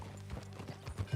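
A horse's hooves clip-clop in Red Dead Redemption 2, a quick, close run of several soft hoof falls over a quiet background.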